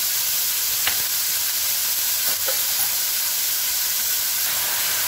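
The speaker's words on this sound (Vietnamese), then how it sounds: "rồi thịt mình đã xào xong mình à" Meat sizzles and hisses while stir-fried in a pan, a steady close frying crackle with a few faint clicks of utensils, no voices.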